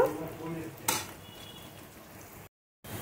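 Finely chopped garlic and green chili hiss in hot oil in a pan alongside partly fried onion, a steady sizzle broken by one sharp utensil clink and a brief pause.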